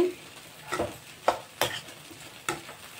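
A spoon stirs vankaya tomato pachadi (eggplant and tomato chutney) in a pan over a low sizzle, with four or five distinct scraping strokes spaced unevenly, close and fairly clear.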